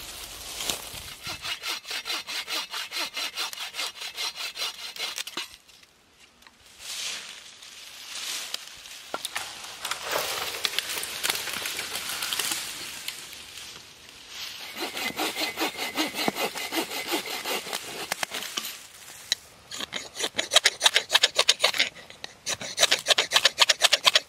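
Firewood is hand-sawed at a solo overnight bushcraft campsite in Hoosier National Forest, a close, rhythmic rasp of teeth on wood in long bursts with brief pauses and some rubbing between strokes.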